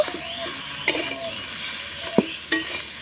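Boiled potato stir-fried with ground spices for a chop filling, a spatula scraping and knocking the pan in a few sharp clacks over a soft, steady sizzle.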